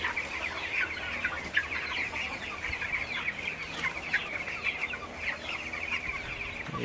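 Seventeen-day-old broiler chickens crowd a shed with a continuous chorus of overlapping clucks and soft calls, close and busy throughout.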